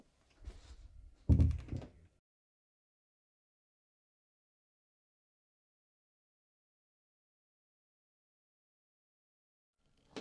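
A single door closes with a soft rattle and a firm thunk close by, followed by near silence.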